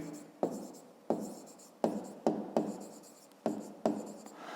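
A pen scratches across paper while a math exercise is worked out by hand, making a series of short, close, quiet strokes that each start sharply and fade, about seven in under five seconds, with no talking over them.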